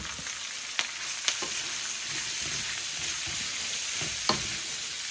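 Celery and green onions stir-frying in oil for an Americanized bami goreng, a steady loud sizzle with a few sharp utensil clacks against the pan, no voices.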